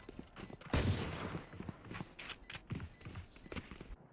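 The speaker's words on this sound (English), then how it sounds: "Run and gun stinger goes crazy." A Stinger submachine gun fires in Valorant while the player runs, giving fast, light bursts of shots mixed with footsteps, a soft, compressed rattle under faint game tones.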